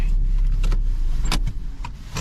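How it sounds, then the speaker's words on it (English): A car being parked: a steady low engine idle with a few sharp clicks and a power-window whir, then the engine cuts and quieter handling noises follow, with no talking. "Let me park my car here."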